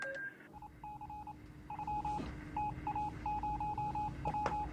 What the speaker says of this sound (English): In order to hear the distant signal, Jack Phillips has turned his headphones up to full volume